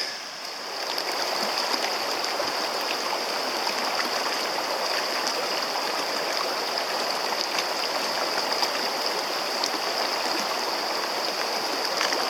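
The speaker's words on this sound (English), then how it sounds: "I hear the water" River water rushes along a canyon trail near a waterfall in Idaho, a steady, full-bodied flowing roar heard close and continuous with no pauses.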